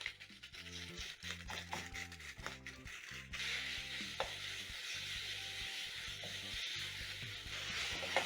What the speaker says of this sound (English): you're going to add in your minced meat, and using a wooden spatula or a silicone spatula, you're going to break down the meat as it cooks